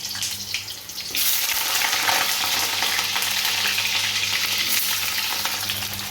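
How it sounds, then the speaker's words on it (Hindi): Potatoes and pointed gourd dropped into hot oil, bursting into a loud, dense, continuous sizzle about a second in that holds steady and close. "और मैंने सारे ही आलू परवल एक साथ डाल दिए हैं और इसको अब करूँगी फ्राई अच्छे से रेड रेड होने तक"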